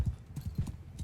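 Horse archers' mounts charge in Bannerlord, hooves drumming in a fast, steady clip-clop with a faint whinny, as a massed cavalry gallop heard at moderate volume.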